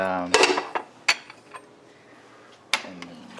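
A utensil clanks and scrapes against a pot of Puerto Rican sancocho guiso with adobo and salt while it is stirred, giving a few sharp metallic knocks spread over a quiet stretch.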